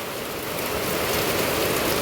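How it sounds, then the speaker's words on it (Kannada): Heavy evening rain falling in Udupi, a dense, loud, steady hiss of downpour with no break and no talking. "ಮಳೆ ತುಂಬಾ ಜೋರಾಗಿದ್ದು"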